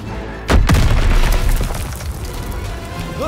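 A demolition charge in the Call of Duty WW2 video game explodes with a sudden heavy boom, followed by a long rumbling decay with debris and battle noise.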